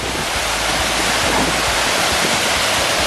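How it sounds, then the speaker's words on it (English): Loud, steady roar of a waterfall pouring through a forest, continuous broadband rushing water filling the scene with no pauses and no audible talk above it. "You guys may not be able to hear me because of this waterfall for obvious reasons"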